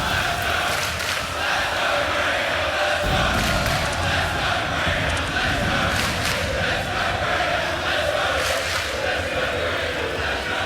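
A live crowd at a CS:GO esports match on the Nuke map at ESL Challenger Melbourne 2022 roars and cheers continuously, a dense wall of voices with a surge partway through, beneath an excited commentator.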